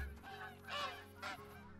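A goose honks during a longbow hunt, two or three nasal calls in a row, close but fairly quiet, with no talk.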